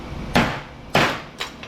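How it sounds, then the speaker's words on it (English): A hammer strikes a car dealership light fixture three times to shear off parts, each blow a sharp, loud, close crack with a brief rattling tail, spaced roughly half a second apart. "Shear it with the hammer."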